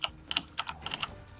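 Keys clacking on a new computer keyboard during PC gaming, a quick burst of close, crisp clicks in an uneven rhythm, loud at first and trailing off.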